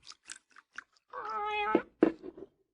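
A cat on a bar in a radio drama gives a drawn-out meow followed by a couple of shorter chirps, close by, after a few soft taps and clinks.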